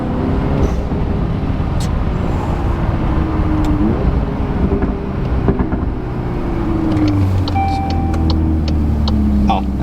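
Exhaust pops and blow-off valve flutter from a VW Golf R MK8 fitted with a Forge blow-off valve, heard over steady loud engine and road drone from inside the car, with a few sharp crackles standing out.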